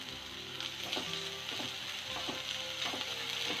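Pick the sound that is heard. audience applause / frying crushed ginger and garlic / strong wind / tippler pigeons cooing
frying crushed ginger and garlic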